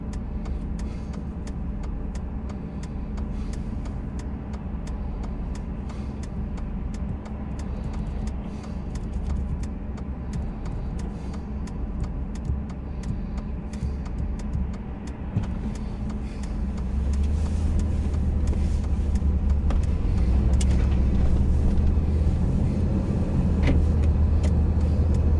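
Road traffic in Minot, North Dakota, heard from a vehicle: a continuous car engine and road rumble with passing vehicles, growing louder and heavier in the second half, no talking.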